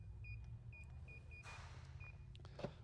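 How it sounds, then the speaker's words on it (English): Keyless entry on an Entegra Aspire motor coach unlocks the doors and disarms the alarm: a series of short high beeps over a low idling rumble, a brief whooshing mechanical burst mid-way, then a sharp clunk near the end, faint overall. "We've now unlocked the entire coach and disarmed that alarm"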